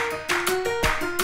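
Short excerpt of theme music from The Animated Adventures of Doctor Who, with a steady sustained tone and rhythmic bursts repeating roughly every half second, playing loud and close with no talking.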